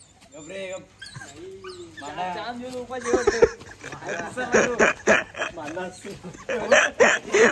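A dog barks and yips among overlapping voices, its sharp calls repeating close by as people talk over it.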